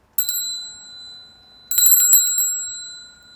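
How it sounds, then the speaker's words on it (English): Small metal bell, bicycle-bell style, rung twice: a single bright ding that rings out, then a quick flurry of rapid rings decaying slowly. "Do you not make the connection that this is a bell? This is a bell."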